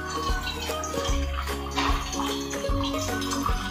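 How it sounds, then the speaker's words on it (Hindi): Water is poured into a pan on a medium gas flame while soya bean pulao cooks, a continuous splashing pour with bubbling and sizzling that runs steadily throughout, fairly close and with no talk over it. "पानी अंदाजे से डालना है"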